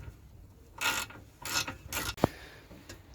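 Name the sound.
tightening a car drive shaft fitting by hand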